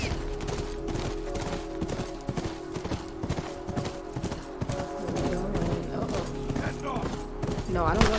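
Rapid clip-clop of galloping horse hooves in The Last of Us Remastered, mixed with game sound effects and gunfire-like bursts, continuous and busy throughout.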